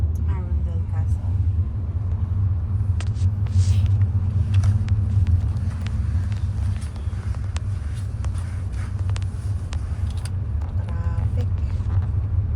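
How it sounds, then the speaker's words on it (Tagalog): Cars pass on a road near Arundel Castle, a steady low rumble of traffic with occasional footsteps and nearby voices talking over it. "Traffic."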